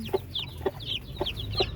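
Orpington chickens cluck softly in a steady rhythm, four short low clucks with higher chirpy notes between them, close by over faint background noise.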